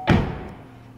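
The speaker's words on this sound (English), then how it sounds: "Let me close the door." A single solid thud of a Chevy Volt car door shutting, close by, with a short fading resonance afterward.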